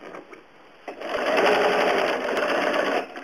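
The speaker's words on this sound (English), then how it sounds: "This is straight stitch, and I'm letting the machine do some of the feeding, and I'm guiding it." A home sewing machine runs a straight stitch while quilting, fabric fed partly by the machine and guided by hand along the presser foot edge; a quiet start gives way to a loud, steady fast whir of rapid stitching.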